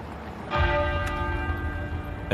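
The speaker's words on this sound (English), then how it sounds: "the great tenor bell at Westminster Abbey began to toll" The great tenor bell of Westminster Abbey strikes once in a slow toll, its deep metallic ring blooming suddenly and then hanging in a long, steady hum of overtones, heard at a distance against a faint background hiss.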